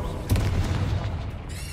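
Flipendo spell effect in a Harry Potter video game, a single heavy boom-like burst with a rumbling tail, overlaid with airy magical whooshes and a brief shimmer near the end.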